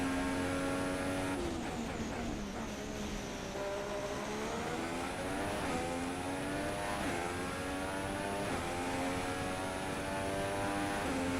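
A Haas Formula 1 car in F1 2016 at Melbourne, pushed hard: a loud, steady high-pitched engine whine that rises and dips through gear changes and corners, continuous for several seconds with no talk.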